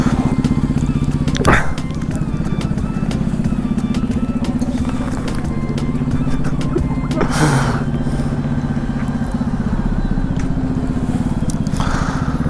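A fully modified motorcycle fitted with a small aftermarket exhaust, likely a KTM or Yamaha FZ, rumbles steadily close by with a deep throbbing idle, a couple of brief rasping bursts rising above it.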